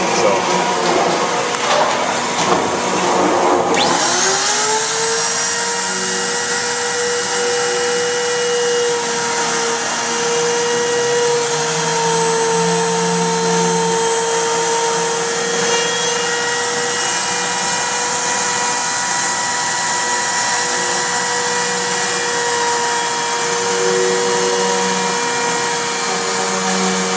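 A power tool runs steadily and loudly, cutting a shallow hinge recess into a wooden storage chest board. A rising whine at the start settles into a sustained drone that holds for the rest of the stretch.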